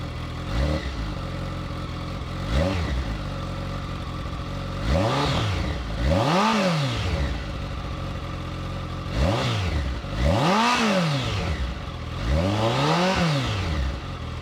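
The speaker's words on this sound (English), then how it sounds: "And now it's time to hear how the ZX-14R sounds." A 2025 Kawasaki Ninja ZX-14R motorcycle engine revs repeatedly from idle, with about six sharp throttle blips rising and falling in pitch, loud and close with no talking.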